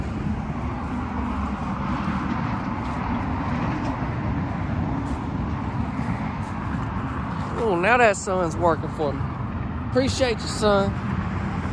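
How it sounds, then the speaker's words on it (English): Highway traffic rumbles as a continuous low roar outside a wide single-wide mobile home, steady throughout while someone talks over it. "Now it's the highway traffic."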